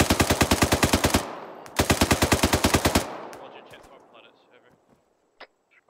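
Sustained automatic machine gun fire in the military shooter ArmA 3, two loud rapid bursts of evenly spaced shots separated by a short pause, then a decaying echo and a few scattered distant shots with voices faintly underneath.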